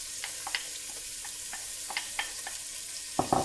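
Onion frying in heated butter crackles with a steady soft sizzle, broken by light clicks of stirring and a louder scrape near the end, with no voices.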